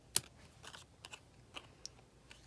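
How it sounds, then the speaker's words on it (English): Paper snips trimming excess paper hearts off a Valentine's Day card, heard as a handful of sharp, close, quiet snips at uneven intervals in an otherwise quiet room. "I'm going to use my paper snips to cut the excess hearts off"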